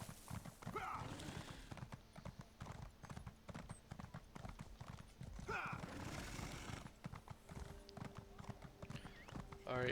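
Horse hooves clip-clop steadily in the video game ESO, a quick regular trot with an occasional whinny, moderately loud and close under quiet in-game ambience.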